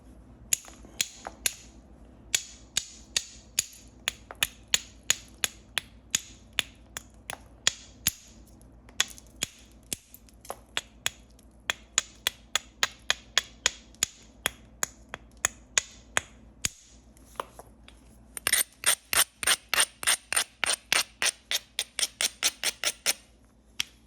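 Sharp, rapid clicks of flint knapping as a hornstone Dalton point is bevelled indoors, dozens of crisp strikes in steady bursts, growing denser and brighter near the end, with no talking.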